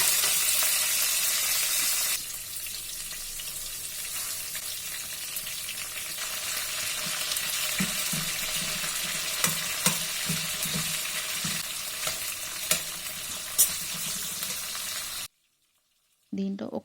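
Mustard seeds, cumin, green chillies, onion and curry leaves fry in about four spoons of hot oil for masala pasta, giving a continuous close sizzle with occasional stirring scrapes before the sound cuts out abruptly near the end.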